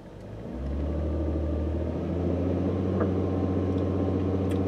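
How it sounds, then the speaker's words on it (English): A car with an automatic transmission is held in drive on the brake while the engine rises from idle to a steady, loud, low drone that holds through to the end, with no talking. "go ahead and start the car up, put it in drive, and then power brake it with your foot on the brake"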